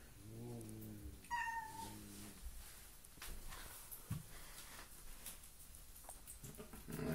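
Four house cats meow near a bathroom during a tense standoff: a couple of drawn-out, rising meows early on, then soft rustling, light footsteps and scattered small sounds, all fairly quiet and close with no talk.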